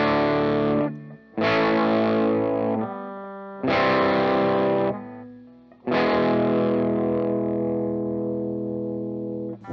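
An electric guitar strums chords through a Big Muff style fuzz pedal, four thick, distorted, sustained chords with pauses between them, the last one ringing out long; no talking.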